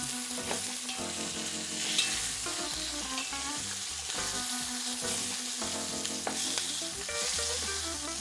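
Lamb shanks browning in a cooking pot give a steady, close sizzle with occasional stirring, layered under a melodic background music track throughout.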